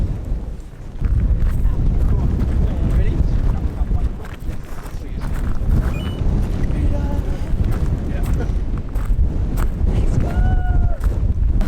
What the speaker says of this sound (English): Oh my god, it's so windy though.